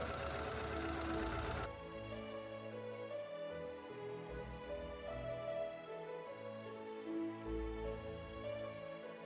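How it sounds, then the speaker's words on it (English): A Janome sewing machine with a walking foot runs a stretch stitch in a short, dense, rapid mechanical burst of about a second and a half, then stops, leaving only soft tonal background music. "then I stitched these, again using a stretch stitch on my Janome machine"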